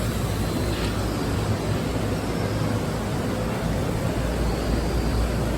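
Steady, dense rush of a waterfall among plants including large staghorn ferns and tank bromeliads, an unbroken broadband roar with no pauses, constant in loudness throughout.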